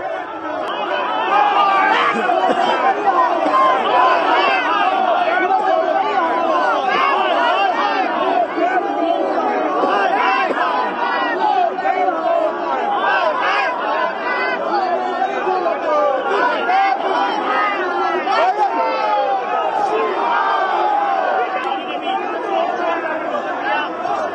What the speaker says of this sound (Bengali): শুভেন্দু অধিকারীকে দেখে তখন সেখান থেকে গো ব্যাক স্লোগান।